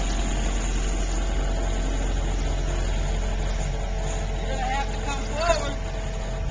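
A steady, low engine drone from an excavator working in a backyard lifting a pool on straps, running continuously at mid volume with a brief sharp sound near the end and people talking over it.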